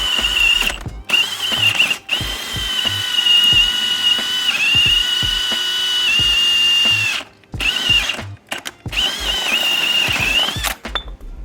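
A loud, high-pitched powered cutter grinds as its blades bite into a pipe fitting, whining steadily with several abrupt stops and restarts, close and without speech.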